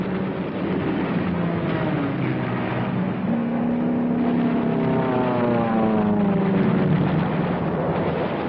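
Military aircraft from the 1940s war era drone overhead in a steady, loud propeller roar, with engine pitch slowly sliding and continuing throughout without voices.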